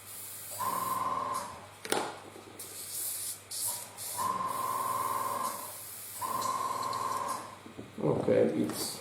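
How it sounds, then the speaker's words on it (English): An airbrush being cleaned by spraying Rust airbrush cleaner through it, three long steady hissing bursts of about two seconds each with brief pauses and small clicks between. "I'm using the Rust airbrush cleaner."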